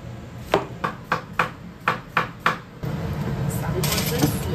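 A knife slices a pumpkin on a cutting board for pumpkin cakes: seven sharp, evenly spaced chops ring out close by, then give way to a steady background rustle and hiss.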